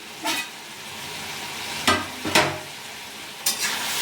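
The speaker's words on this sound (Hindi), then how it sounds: "तो बीच बीच में आप चलाते हुए सब्ज़ी को हम भून लेंगे।" A vegetable curry is stirred while it roasts in an open pan. Four quick scraping strokes of a spoon over the pan stand out against a faint, constant sizzle, with no talk.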